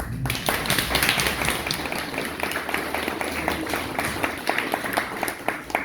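A conference audience claps steadily, a dense patter of many hands applauding together at moderate loudness.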